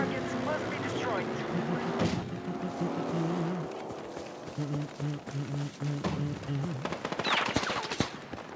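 Gunfire in Battlefield, bursts of automatic shots and single cracks amid game noise, moderately loud, with someone talking over it.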